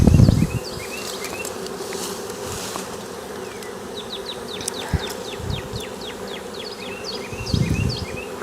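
A swarm of honeybees swirls around a hive while being installed, a steady close buzzing drone lasting throughout, with scattered bird chirps and a few soft knocks in the background.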